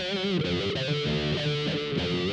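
Electric guitar notes through a BOSS GT-100 spring reverb effect, ringing out with a splashy spring reverb tail, played continuously and fairly loud.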